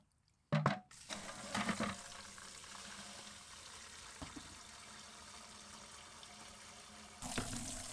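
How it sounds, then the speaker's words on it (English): Water sloshed around inside buckets and then tipped out, a brief splash and pour near the start followed by a steady trickling, running-water wash that continues throughout, with another splash near the end. "I still do like to give them a rinse around the inside and then to tip the water out of them."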